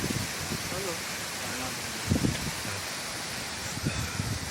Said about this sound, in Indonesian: saat ini angin berembus sangat kencang sekali, bisa lihat dari sana ranting-ranting bertiup ke arah timur